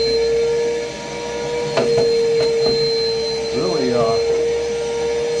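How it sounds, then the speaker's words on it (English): A Milwaukee M12 cordless vacuum sucks debris out of a pellet grill's fire pot, giving a steady, close, high-pitched motor whine with rattling bits drawn in, while someone speaks briefly over it. "It's just a whole M12 vacuum. Works great on this. I'm going to suck out everything in this pot."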